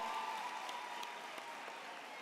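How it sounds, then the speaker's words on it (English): Applause from a graduation ceremony audience in Durban for the DUT choir, a steady, dense wash of clapping from a large crowd that sounds somewhat distant and stays even throughout. "Let's give them another round of applause."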